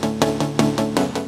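Chords in a music production track, struck in a steady rhythm about every fifth of a second, with full harmonic stacks ringing loud and close and no voices.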